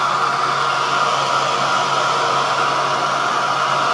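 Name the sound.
hair dryer on low setting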